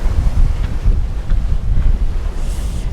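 Steady, loud wind buffets the microphone aboard a sailboat running under full genoa and full main, with low rumbling gusts and faint water wash, and no voices.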